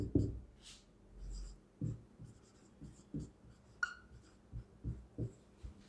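Marker or chalk strokes on a board during a math lesson on graphs, a quiet series of short scratchy taps and squeaks spaced irregularly, with no talking.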